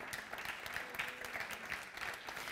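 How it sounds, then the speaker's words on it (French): Congregation applauding during a French-language church service, a steady, moderately faint wash of many clapping hands lasting a couple of seconds, with no speech over it. "Oui, il a le droit d'être applaudi plus que cela."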